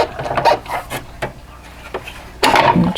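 A sewing machine is shifted across a table in short scraping, rubbing bursts with knocks between them, close and loud, ending in a longer drag.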